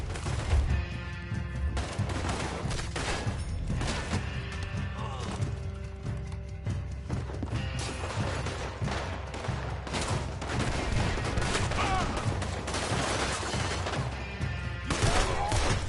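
Dense gunfire rattles through a Red Dead Redemption 2 shootout, rapid overlapping shots and bursts fired continuously at close range with no pause, loud throughout.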